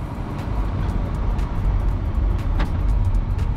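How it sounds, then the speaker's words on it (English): A Volkswagen e-Golf electric car pulls away in drive, heard from inside as a steady low road rumble with faint scattered clicks and ticks over the top. "Let's start driving."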